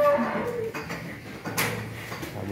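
Cattle and calves low on a large Long An breeding farm; a couple of moderate moos rise over a busy barn background with some clattering and scattered knocks.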